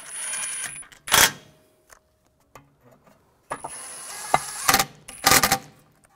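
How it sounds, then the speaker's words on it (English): Screws are snugged down on the rear wheel bearing of a 2004-2009 Audi A4 Quattro, heard as bursts of ratcheting clicks separated by quiet gaps, close and fairly loud. "get the screws started. I'll snug these down."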